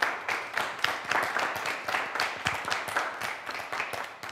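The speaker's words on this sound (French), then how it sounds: "Je crois qu'on peut l'applaudir." An audience applauds an architecture lecturer at a talk on architecture exhibitions, a steady wash of many hands clapping close by, with no voices over it.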